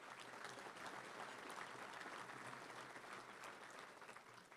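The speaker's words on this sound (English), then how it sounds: "Let's give them a round of applause" Steady applause from a crowd, many hands clapping in a dense, continuous wash that holds evenly and dips slightly at the end.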